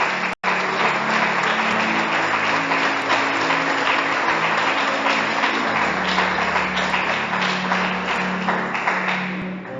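A church congregation applauds steadily and densely for about ten seconds, a loud continuous wash of clapping with a faint sustained tone running underneath.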